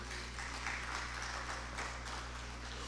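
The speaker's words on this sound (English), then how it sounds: "Once more, a round of applause for them." Steady audience applause following a presentation at the AFNIS 2025 conference session, moderately faint over a constant low electrical hum, continuous for the short stretch.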